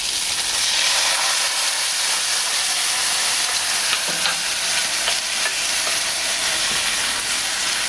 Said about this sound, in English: and we're cooking our meatballs